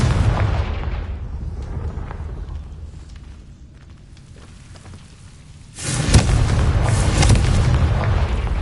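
A Confringo fire spell explodes in Hogwarts Legacy: after a low, dull rumbling stretch, a loud, broad blast erupts abruptly and keeps roaring and crackling for the final few seconds.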